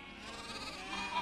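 Sheep bleat on a Welsh hillside in one sustained, wavering call lasting about a second. The call is fairly close and stands alone.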